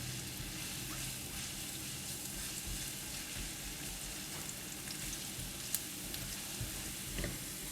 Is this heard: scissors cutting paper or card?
no